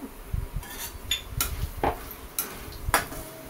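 A spatula scrapes and clinks around a pan as chilli powder and half a spoon of turmeric are stirred into hot oil for a bottle gourd curry, in several short, close strokes over a faint background hiss.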